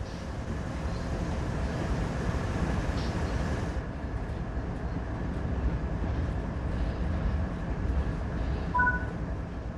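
A train in the Train Sim World 3 game rolls with a steady, loud low rumble and rail noise throughout, with a brief high squeal near the end.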